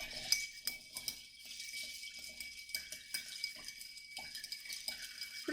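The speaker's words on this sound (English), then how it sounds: "From here, we will stir the cocktail." Bar spoon stirring a Manhattan cocktail over ice in a glass mixing jar, giving soft clinking and swirling ice taps in an irregular rhythm, close and fairly quiet with no talking.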